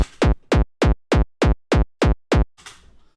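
Eight punchy frenchcore kick drum hits synthesized in Serum land in an even, steady rhythm, each short and tight, followed by a brief noisy tail.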